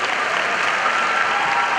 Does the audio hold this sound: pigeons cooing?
no